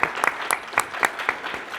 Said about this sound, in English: I didn't mean to step on your applause there